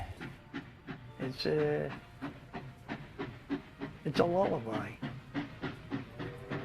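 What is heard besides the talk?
steam locomotive chugging and whistle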